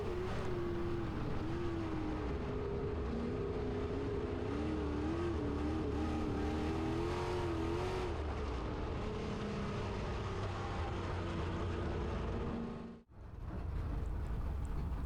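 Race cars at Camden Speedway roll out for a heat race, a steady engine drone with a wavering pitch that holds for most of the stretch, then cuts out sharply near the end before resuming.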